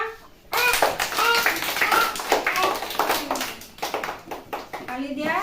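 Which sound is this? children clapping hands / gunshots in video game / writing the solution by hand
children clapping hands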